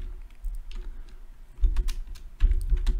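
Java code is typed on a computer keyboard in quick, close clusters of key clicks, pausing briefly between bursts, with no talk.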